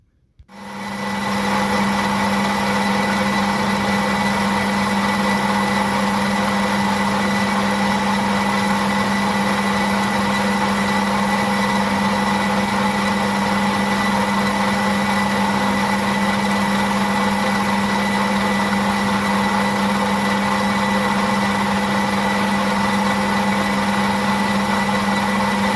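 A metal-boring machine cuts a part for a 4 1/2 inch model Burrell engine, giving a steady, loud, continuous mechanical whine with a strong constant hum that carries on without a break.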